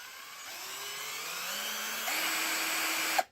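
Cordless hammer drill motor whirring as its trigger is squeezed slowly, a close whine that climbs in pitch and speed over about three seconds, steps up once more, then cuts off with a small click.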